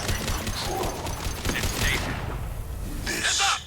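Rapid bursts of particle-gun fire from a Mass Effect 2 firefight, dense and continuous for several seconds with a chattering texture, mixed under game speech and combat noise.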